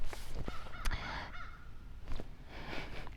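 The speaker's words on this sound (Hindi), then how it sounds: "कौवा भी कह रहे हैं आमीन।" Crows cawing outdoors, several harsh calls scattered across a few seconds over a steady background, moderately close.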